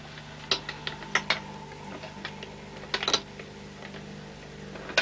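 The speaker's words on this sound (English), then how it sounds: "This was made as a shop display model and runs from an electric motor. He sits in a shop window and does his thing, hammering at a chalice" A motor-driven silversmith automaton built as a shop-window display model taps its hammer at a chalice in irregular light metallic clicks and short bursts, over a faint steady motor hum.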